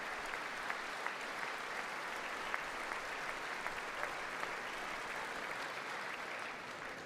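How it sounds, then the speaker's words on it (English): Stadium-sized crowd applauding, a steady, distant wash of many hands clapping with scattered sharper claps poking through, fairly faint and sustained with no speech over it. "So much clapping in the stadium every time."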